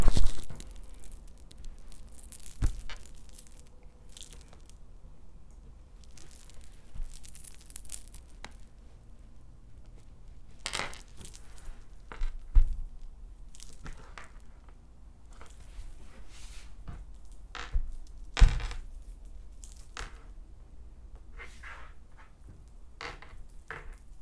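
Scissors trim the edge of a minky fabric blanket in a sequence of irregular, quiet snips and soft rustles, close by with pauses between cuts.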